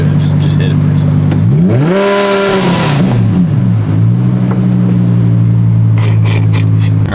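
Audi R8 engine with Valvetronic exhaust, modified for a very loud note, blipped to high RPM: a steady idle rumble swells into one sharp rev that climbs and falls back, close and loud, with brief voices over it.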